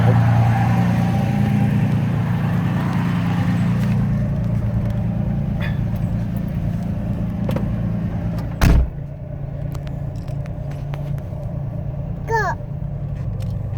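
A Ford Capri rolls slowly onto a drive with a steady low engine rumble inside the cabin, a sharp thump near the end and a faint squeak just after.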